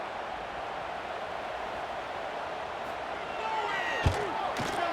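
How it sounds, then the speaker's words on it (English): Extra point kick in College Football 26, Appalachian State against Georgia Tech: a single sharp thump of the ball being struck, followed by a second knock, over a steady stadium crowd murmur and commentary. "they knock through the extra point for the 10-3 lead"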